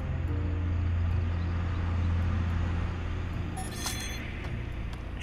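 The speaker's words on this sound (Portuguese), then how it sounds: "Ih, tá passando um carro grandão lá na rua. Fazendo barulho pra variar um pouco." A large car passes along a street in The Sims 3, a steady low engine drone holding for several seconds, then easing off as a few faint clinks and chimes surface near the end.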